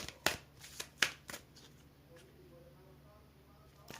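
Tarot cards being shuffled by hand, a few sharp riffling snaps and soft flicks close by, quiet between bursts with faint background hum.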